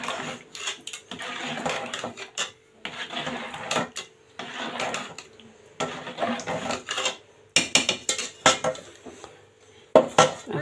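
Beef being stirred and fried in a pot for a traditional Bogura dish of potatoes with beef: bursts of scraping and clanking from a utensil against metal, arriving in irregular clusters separated by short quieter stretches, close and fairly loud.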